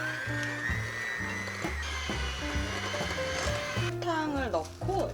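A hand mixer whips butter with sugar, its motor whining in pulsing, rhythmic bursts that rise and dip in pitch while a person talks over it.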